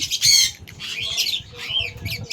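A lovebird squawks repeatedly, harsh shrill calls in quick bursts, close and loud, with softer chatter between them.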